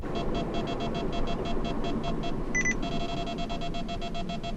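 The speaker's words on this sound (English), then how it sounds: "Now that extra beep that you just heard is a detector alerting to one signal" A short high double-toned electronic beep from a Cobra DualPro 360 radar detector sounds once over steady road rumble, signalling a second radar signal, amid a repeating pattern of faint chirping tones from the detector.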